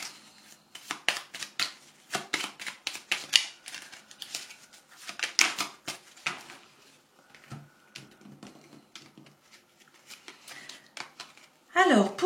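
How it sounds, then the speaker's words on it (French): Tarot-style playing cards are shuffled and drawn, producing a quick series of soft, papery flicks and slaps. The handling comes in bursts, with a voice speaking faintly underneath. "Je vais prendre une autre carte."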